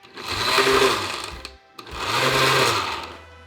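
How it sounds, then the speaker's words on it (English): A blender whirs in two bursts of a second or more each, with a short pause between, loud and close with a rough grinding motor tone, pulsing herbs and vegetable oil or water for a Caribbean green seasoning marinade. "Start out by pulsing your blender"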